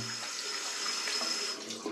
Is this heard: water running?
yes